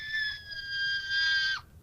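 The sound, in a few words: high-pitched scream heard muted over a phone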